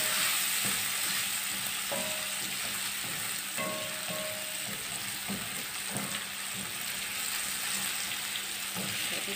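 Eggs sizzling steadily in a pan for spiced shakshuka with onion and yellow capsicum, with a continuous crackling fry and a few brief clinks.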